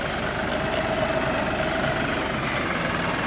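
A tractor engine runs steadily on a homestead, a close, constant low drone with a throbbing idle rumble that holds level throughout, with no speech.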